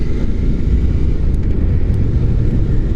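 Steady low engine drone of a Royal Enfield Bear 650 scrambler motorcycle pulling away on a ride in cold weather, continuous and close with wind noise, no talking.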